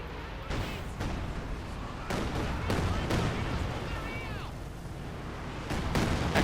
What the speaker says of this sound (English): Pack 40 there being bombarded by the Katyusha, rockets after rockets unleashed